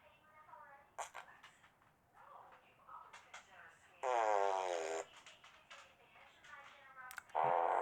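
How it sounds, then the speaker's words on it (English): A cartoonish fart sound effect blares in two loud, buzzy bursts, the first about a second long and the second shorter, between stretches of a man's quiet speech. "Just an absolute fart sound effect."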